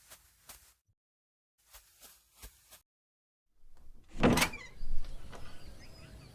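A cartoon door swings open as a whooshing, creaky sound effect swells and fades, preceded by a few soft, quiet taps.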